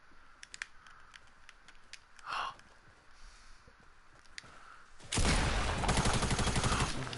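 A sniper fires in a shooter video game with a few sharp, scattered shots, then a loud sustained burst of gunfire takes over near the end.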